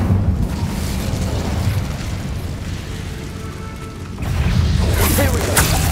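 A fire spell from Hogwarts Legacy goes off as a loud, sustained roaring blast, rumbling steadily for several seconds before a second surge of crackling burst near the end.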